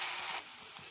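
Chopped onion with a little salt fries in a pan, giving a steady close-up sizzle that eases slightly partway through.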